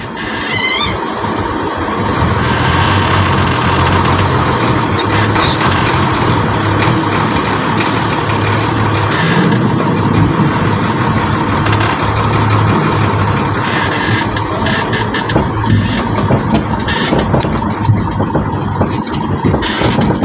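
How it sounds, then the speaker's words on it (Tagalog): Truck engine idling in a steady, loud, unbroken rumble for the full twenty seconds, with wind noise mixed in and no talk. "Ito yung truck natin"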